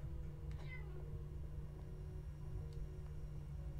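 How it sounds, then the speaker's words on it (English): A cat meows in the Minecraft video game, a short in-game mew standing out over a steady low background hum, with a fainter second call later. "Yo, why does that cat get like a whole bedroom?"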